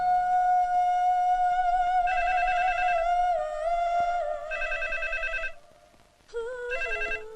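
A telephone rings in repeated trilling bursts with short pauses between them, clear and alone, in a Telugu comedy film scene.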